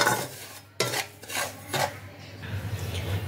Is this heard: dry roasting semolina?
yes